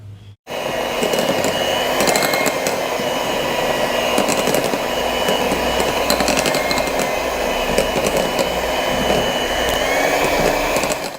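An electric hand mixer whirs steadily as it beats eggs one at a time into Christmas fruit cake batter, a loud continuous motor drone with a faint rattle that runs unbroken after a brief start.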